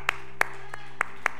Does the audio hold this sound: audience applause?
yes